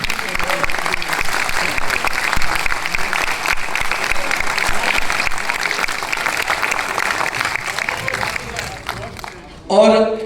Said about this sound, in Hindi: आपकी तालियां फकीर हुसैन